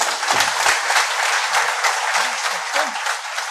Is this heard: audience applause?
yes